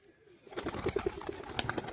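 A pigeon gives a few soft, close coos amid light rustling and flutter, with no talk.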